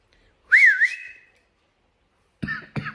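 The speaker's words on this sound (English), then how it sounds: "Shouldn't whistle" A person whistles a short, bright warbling note lasting under a second, followed by silence and then two rough coughs or throat-clearing sounds, close and isolated.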